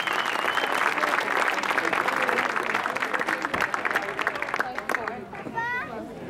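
Audience applauds at a show jumping Grand Prix CSIOP prize-giving ceremony, sustained dense clapping from a crowd that thins toward the end, with children's voices and chatter mixed in.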